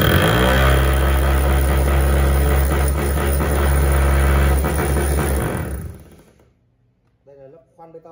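A three-function 220V concrete hammer drill in chiseling mode, speed control but no reverse, runs loud and steady for about five seconds before winding down, followed by brief speech.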